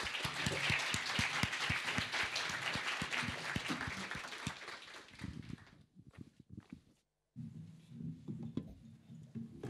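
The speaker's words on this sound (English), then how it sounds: "round of applause for our content tonight." A panel audience at an evening debate on AI and jobs breaks into dense, loud applause that gradually thins into scattered claps, briefly drops to silence, then resumes as a softer murmur of crowd noise.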